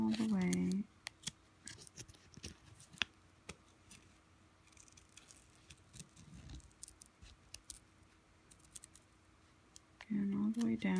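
Scissors cutting through vinyl sheet in a long run of close, crisp snips and scratches, with a voice talking briefly at the start and end.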